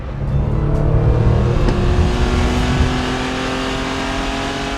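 A 1973 Porsche 911T engine runs loud and close while driving, a throaty steady rumble that eases slightly toward the end.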